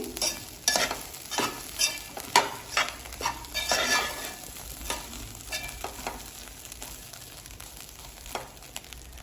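Fish fry being stirred with garam masala in a pan: a steady sizzle carries repeated scraping and stirring strokes with some clinks of utensil on metal, close and fairly loud, with no talking.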